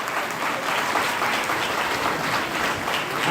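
A gathering applauds as charitable trust volunteers are welcomed. Dense, even clapping from many hands fills the whole stretch at a steady level with no pause.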